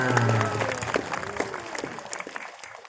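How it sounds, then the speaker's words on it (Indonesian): Audience members clap at a Rabi'ul Awal religious gathering with a habib, a scattered patter of hands heard under and after a voice and lingering tones, thinning out toward the end. "Tepuk tangan"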